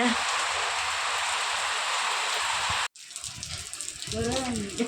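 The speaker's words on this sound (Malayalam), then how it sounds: "നല്ല മഴ" Steady heavy rain hisses loudly for several seconds, then cuts out briefly before resuming with a voice and other sounds underneath.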